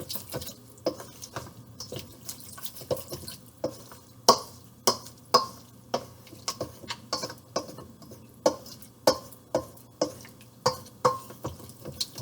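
A spoon stirs stuffed kabocha squash in a pan, giving a series of sharp, wet scraping clacks in an irregular rhythm, close up against a quiet background.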